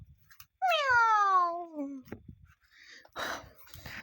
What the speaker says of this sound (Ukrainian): Альона, кішка, іди у бабуліну комнату.